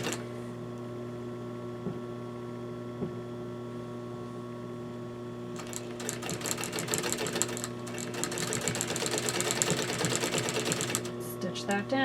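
Sewing machine stitching a fabric edge on a Parson's chair slipcover, starting about halfway in with a rapid, steady rattling run that grows louder, over a constant mains hum.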